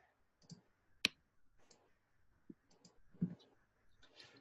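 Single crisp computer mouse click deleting an item in document-signing software, sharp and close, with a few faint soft clicks and quiet background sounds scattered around it; no speech.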